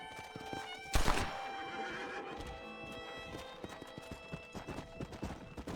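A horse in Red Dead Redemption whinnies loudly near the start, then its hooves clop in an uneven rhythm over continuous game background sound.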